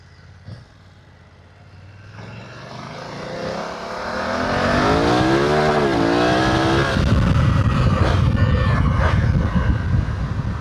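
A motorcycle being ridden, with the engine rising steadily in pitch as it revs and accelerates, then settling into a loud, rough, steady drone with wind rush.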